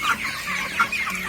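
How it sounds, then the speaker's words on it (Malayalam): Young broiler chickens, 27 days old and raised free-ranging outdoors, cluck softly and steadily at close range, with a few sharper calls rising from the flock. "പുറത്ത് വിട്ടിട്ട് വളർത്തുന്ന ബ്രോയിലർ കോഴികളാണ്."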